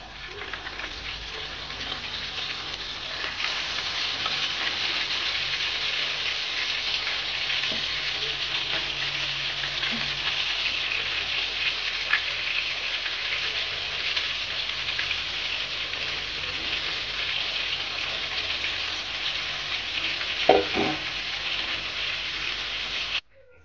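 Hilsa fish pieces frying in hot oil make a loud, steady hiss and crackle close by, with faint stirring knocks now and then. The sound runs uninterrupted with no talk.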